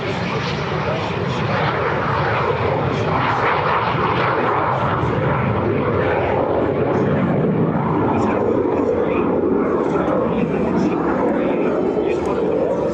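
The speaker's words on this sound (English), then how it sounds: "the T-33 Shooting Star, gift being flown by Colyer" A Lockheed T-33 Shooting Star two-seat jet trainer flies at an air show, its engine a steady, broad, loud roar lasting throughout, with an announcer's voice faintly mixed into the noise.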